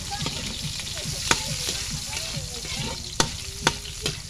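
Onions sautéing in hot garlic in a pan, a steady frying sizzle with occasional sharp clinks and scrapes of a stirring utensil, close and continuous with no talk.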